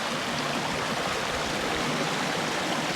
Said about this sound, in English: So I'm right on the edge of Pogilla Waterfalls.